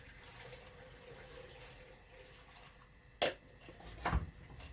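Water runs from a tap into a full cooking pot, a low steady trickle with two brief louder splashes near the end.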